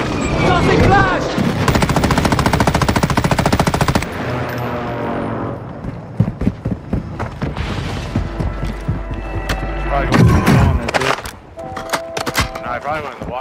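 Rapid automatic video-game gunfire rattles in sustained bursts, then gives way to scattered shots and mechanical clatter, loud and close, with voices talking over the combat.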